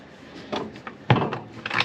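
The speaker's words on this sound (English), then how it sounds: "there is storage drawer below" A storage drawer below the fridge in a motorhome being opened or closed: a few short wooden knocks and slides, one sharper thump midway, close and fairly quiet, with no talking.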